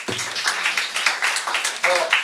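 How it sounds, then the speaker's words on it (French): Audience applause for a performer at a show aboard a boat venue, close clapping from a small crowd in a quick, uneven rhythm of distinct claps, steady throughout, with a brief voice at the very start. "on peut l'applaudir"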